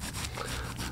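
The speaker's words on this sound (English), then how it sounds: "I'm going to rub this right on in to place." Hands rub wool felt into place on a witch hat made over a resist, a soft, steady, close scrubbing sound that is faint and continuous.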